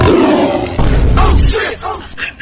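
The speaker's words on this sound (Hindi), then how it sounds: "कभी शेर का आवाज आ रहा है" A lion roar sound effect plays loud and close in two rough, growling bursts, the second fading into a few broken grunts.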